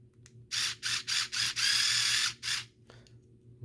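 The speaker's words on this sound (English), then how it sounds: "I'm going to go ahead and get 2 screws started right here." Small screws driven into a 1/24 scale enclosed trailer model produce a close, buzzing whir in several short bursts, then one longer sustained run, with brief pauses between.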